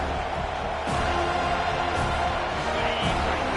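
A video game stadium crowd in EA College Football roars and cheers steadily throughout, a dense continuous wash of noise with no clear breaks.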